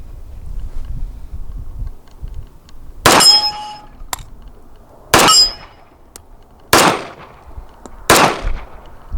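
Five sharp, loud shots from a Sig Sauer STX .45 ACP 1911 pistol, spaced roughly one to two seconds apart, each a crisp crack with a ringing metallic edge over quiet outdoor background.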